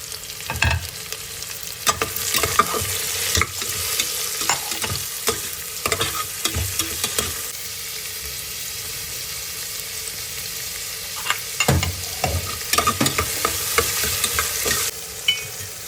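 Sliced onions cut to medium size sauté in oil with a pinch of salt, giving a steady close sizzle broken up by repeated clattering scrapes of a spoon stirring the pan, with no voices.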